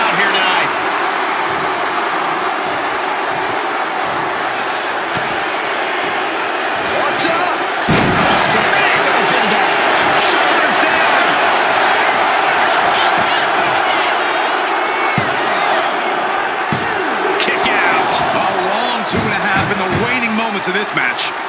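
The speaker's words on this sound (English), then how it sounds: "What a raucous crowd here tonight." An arena crowd in the WWE 2K25 wrestling game roars continuously and loudly through a SmackDown match, with thuds and slams breaking through while a commentator talks over it.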